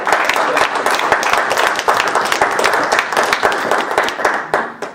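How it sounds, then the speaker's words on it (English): A council meeting audience breaks into sustained, loud applause after a street is added to the agenda, many hands clapping steadily and close. "Clap it out."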